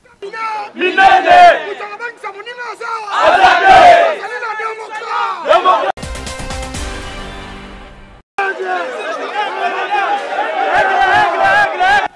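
Supporters of the Alliance pour les changements party gather in large numbers outside the Court of Cassation, their loud chanting and shouting rising in surges, broken briefly by a burst of other noise before the crowd's cries resume.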